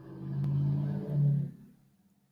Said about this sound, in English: That was a loud car.